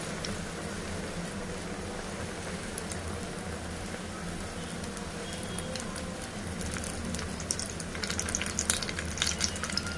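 Eggplant bajji, battered eggplant slices frying in hot oil, giving a steady, continuous sizzle and crackle with sharper pops and spatters growing near the end.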